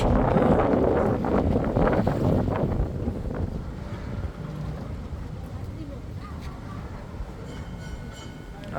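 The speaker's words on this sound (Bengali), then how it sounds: "আর আজকে এই নদীতে অনেক বাতাস" Strong wind gusts buffet the microphone aboard a river launch approaching Zahirabad launch ghat in Matlab, Chandpur, a steady low roar with a rumbling engine beneath, loudest at the start and easing slightly.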